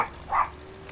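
A single short bark from Luna the dog, frightened by a loud thunderstrike during a storm, close and fairly loud over a quiet background.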